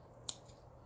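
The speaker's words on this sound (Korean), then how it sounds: "이 밑에는 다 가위 갖고 정리를 해 주세요." Scissors snip once at the branches of a chrysanthemum bonsai being pruned, giving a single short, crisp cut close by in a quiet setting.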